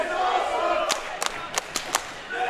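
Crowd at a DOA independent wrestling match cheering and roaring in a hall, a sustained rumble of voices punctuated by several sharp thuds and slaps, moderately loud.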